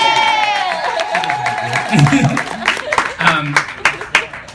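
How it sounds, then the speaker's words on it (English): Brief applause from a bar comedy-show audience, scattered claps under a speaking voice that swell for a moment and then give way to more talk. "give her a big round of applause"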